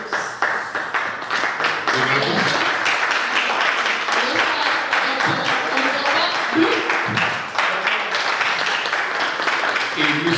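Audience applause for a panel of guests at a formal French-language event, steady dense clapping filling the whole stretch from start to finish.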